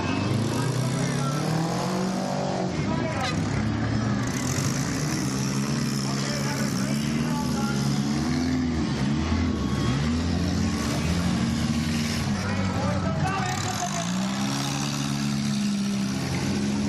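Cars race at the 70th Terryville Lions Country Fair in Connecticut, their engines roaring and revving steadily throughout, rising and falling as they move, with crowd and ambient noise mixed in.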